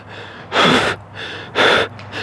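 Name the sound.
breathing through a paintball mask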